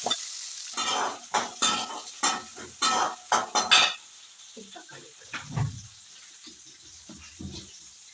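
Small shallots sautéing in a pan for sundakkai vathal kuzhambu, sharp bursts of spoon-on-pan stirring and scraping in the first half, then quieter sizzling with faint clinks, close by and with no one talking.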